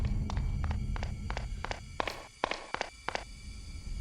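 Footsteps in a horror video game set in a laundry and electrical room, heard as a steady series of sharp, distinct steps at an even walking pace over a low ambient hum, moderately close and alone.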